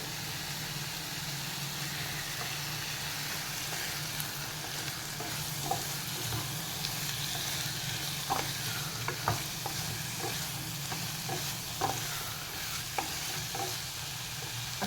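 Eggplant and potato pieces sizzle softly in a pan over a constant low hum, with occasional quiet clinks and scrapes of stirring scattered through the background.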